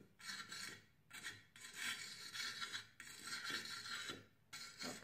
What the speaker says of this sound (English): try to do it quickly so you don't have to hear that scratchy sound.